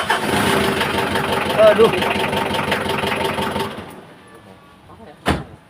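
A Mitsubishi Kuda's 4D56 diesel engine, apparently in poor condition, rumbles loudly and steadily for a few seconds, then cuts out, leaving near silence, a brief exclamation from a person and a sharp thump at the end.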